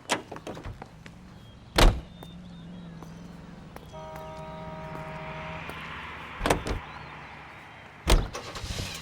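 A car driven in the video game L.A. Noire: a steady low engine hum runs throughout, broken by a few sharp thumps and clunks near and loud.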